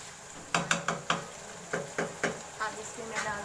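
Minced keema frying in a pan, a sizzling bed broken by a run of sharp spoon knocks and scrapes against the pan, fairly close, easing into softer crackle toward the end.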